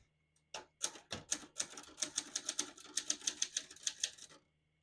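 Keys clacking on a 1968 Adler Tippa S portable typewriter, a quick run of about twenty crisp close strikes in an uneven rhythm, ringing a little, in a quiet room.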